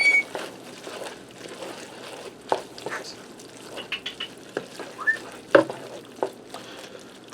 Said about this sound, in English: I'm going to stir that cheese in there and melt it